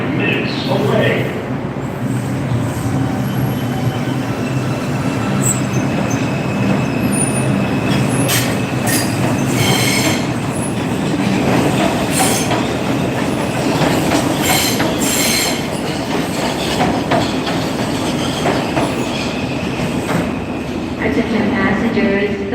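A New York subway 4 train, the Uptown Express, rolls along with a loud, constant rumble. Sharp metallic wheel squeals flare up again and again over the din.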